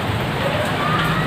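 Heavy rain in Karachi pours steadily, a dense continuous hiss and patter with no pauses, loud and close.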